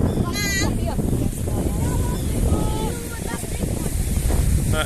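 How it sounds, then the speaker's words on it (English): Steady wind buffets the microphone outdoors at Gare Beach by the sea, with a faint rush of surf and voices audible beneath the roar. "It's lovely and cool here with this wind as well"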